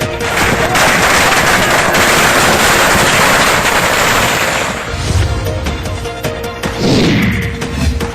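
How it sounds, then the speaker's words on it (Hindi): Firecrackers set off by celebrating TMC party workers in Asansol, a loud dense crackling barrage that runs for several seconds and then thins into scattered bangs. "आसनसोल में टीएमसी कार्यकर्ताओं ने पटाखे छोड़कर जश्न मनाया।"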